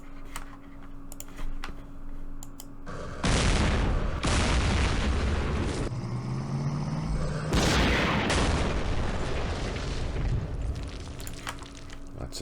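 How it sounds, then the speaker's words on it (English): A recoilless rifle firing in a desert tank battle in a war strategy game, heavy booming blasts with long rumbling tails that fill most of the clip, loud and close. "Oh, a recoilless rifle."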